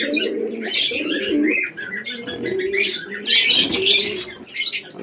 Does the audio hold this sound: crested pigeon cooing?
yes